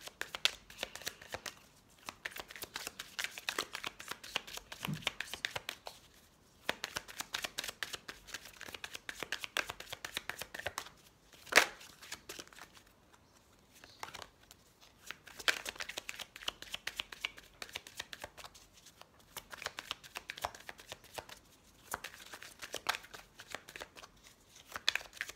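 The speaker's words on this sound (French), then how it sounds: "en brassant les cartes, je sens que c'est lourd" Oracle cards are shuffled by hand in repeated rustling, flicking bursts with brief pauses in between, close and fairly quiet, and no one speaks.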